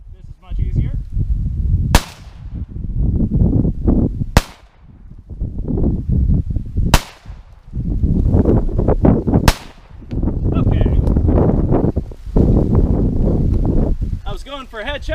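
Four sharp pistol gunshots from a handgun topped with a budget red dot sight, fired from a bench rest outdoors, evenly spaced a few seconds apart, with loud talk and movement between shots.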